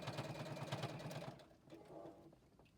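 JUKI sewing machine stitching through three layers of fabric, a fast rhythmic mechanical chatter for just over a second that slows and stops, followed by faint handling sounds.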